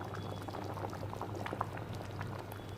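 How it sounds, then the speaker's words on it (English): Arbi sambar (korambu) thickened with rice flour bubbles and boils in a pot, a soft continuous burble with small pops, fairly quiet and close. "Now I am allowing it to boil for few more seconds."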